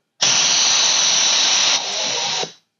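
A Harbor Freight spark plug cleaner blasts on compressed air at raised pressure, a loud, steady roaring hiss that starts abruptly, dips slightly partway, then cuts off after a couple of seconds.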